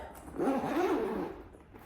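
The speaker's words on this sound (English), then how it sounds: "I'll open it up and show you the inside. So we've got a double zip." The double zip on a Gucci GG Supreme kid's backpack is pulled open in a single smooth, close rasping run lasting about a second.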